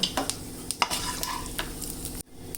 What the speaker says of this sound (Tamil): பட்டை, கிராம்பு, சோம்பு நல்லா தாளிச்சிடலாம்.